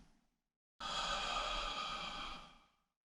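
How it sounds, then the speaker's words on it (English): A long, steady exhale during a tai chi commencement move, a soft breathy rush that starts abruptly and fades out over about two seconds, close and alone with no talking. "And breathing out makes me drop."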